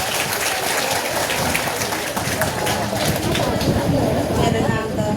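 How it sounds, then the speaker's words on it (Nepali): An audience claps hard at a church gathering, dense continuous applause filling the room, loud and close, with a voice faintly underneath. "परमेश्वर पिताको लागि सम्मान र जोरदार ताली"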